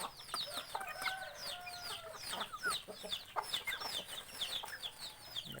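Bantam chickens, including a bantam crossbreed hen, cluck and chatter continuously at low volume on a highland farm, with overlapping calls and brief crowing-like notes and no talk.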